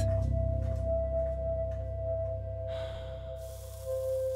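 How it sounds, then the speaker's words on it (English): A person takes a deep breath in, a long airy inhalation heard close up over a steady low hum and a sustained tone, followed by a softer hiss. "Feel how the air fills your lungs."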